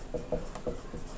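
Marker or chalk writing on a board during a maths lecture, a few short scratchy strokes close by, faint and without talk.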